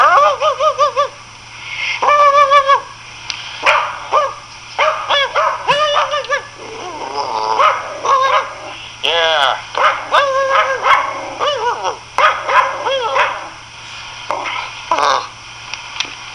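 A small schnauzer yips and barks in repeated short bursts, close by, with a person's voice briefly mixed in.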